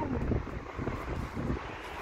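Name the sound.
wind blowing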